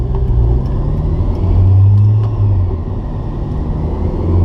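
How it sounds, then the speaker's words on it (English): A Honda S2000 AP1 fitted with a Kraftwerks supercharger revs up through its RPM range from inside the cabin, a loud, steady engine drone with a rising supercharger whine. "just let it go through the RPM so you can hear it"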